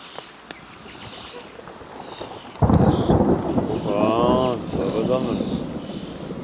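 Thunderstorm with thunder and steady rain, a loud rumbling burst breaking in partway through over continuous rain noise, with a person talking over the storm.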